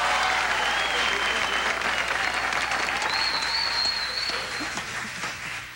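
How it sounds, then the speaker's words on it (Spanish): An audience applauds guitarist Abel Salcedo with steady clapping and a few whistles, loud at first and gradually thinning out, with voices faintly mixed in. "Abel Salcedo, un aplauso para él, por favor"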